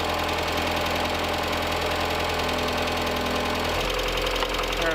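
A Mazda Miata 1.8 engine idling close by after an engine swap, a loud, steady rumble with a slightly uneven knocking pulse and a deeper low hum emerging near the end.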